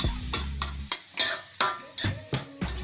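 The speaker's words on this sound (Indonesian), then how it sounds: "Kocok 1 butir telur, kemudian masukkan ke dalam tumisan" Beaten egg being stirred into a sizzling stir-fry in a pan, heard as about nine evenly spaced scraping strokes over a light sizzle, close and fairly quiet, with no talking.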